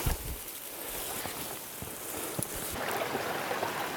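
Creek water rushes steadily nearby, a soft continuous babble with a faint wind-like hiss.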